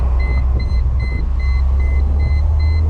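Warning beeps from a 1998 Mercedes-Benz SLK 230 hardtop convertible whose top was lowered manually, a regular pattern of short, high, steady tones repeating under a loud, constant engine rumble while driving.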